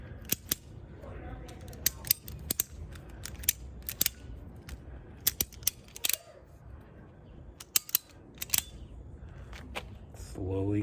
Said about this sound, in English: I'm just ratcheting in it, going up, just pulling it